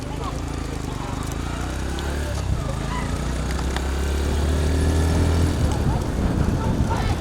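Motor vehicle engine roaring at a village race in J J Nagar, Davispuram, Thoothukudi, loud and continuous with rising pitch sweeps as it passes close, people shouting over it.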